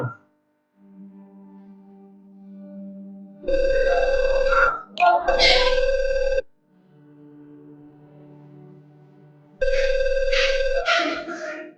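A phone ringtone plays in two loud bursts separated by a quieter stretch of soft tones, with a brief gap between rings.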